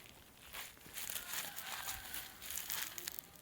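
Plastic bag crinkles as cherry plum seedlings wrapped in wet cloth are unpacked, a run of close, irregular rustling bursts.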